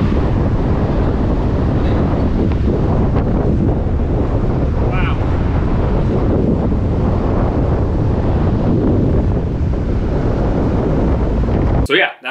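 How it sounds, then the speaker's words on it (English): Strong wind blasts the microphone on a Chicago beach in a loud, continuous roar of buffeting gusts with possible surf beneath, lasting about twelve seconds before cutting off abruptly. "It was so windy."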